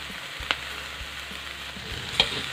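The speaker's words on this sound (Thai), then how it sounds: "ก็ดักแด้ให้แห้งก่อนนะคะ คั่วให้เขากรอบขึ้นนิดหน่อยเนาะ" Silkworm pupae dry-roasting in a pan give off a steady, soft crackling sizzle with two sharper scrape clicks, close and moderate in level, with no voices.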